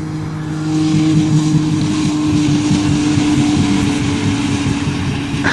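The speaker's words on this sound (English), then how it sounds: "They're both on rev limiter." Two engines, a 1992 Ford Taurus wagon and a 1996 Dodge Caravan, hold a steady droning roar on the rev limiter while reversing in a race, loud and continuous with a fixed pitch.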